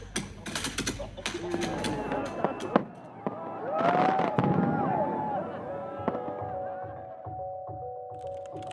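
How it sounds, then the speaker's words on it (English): Fireworks being set off in daytime in a Dutch city, a rapid burst of sharp cracks and pops followed by whistling, whining rockets and scattered bangs, with voices talking in the background. "Regardless of where you are, fireworks being set off in the day is kind of strange."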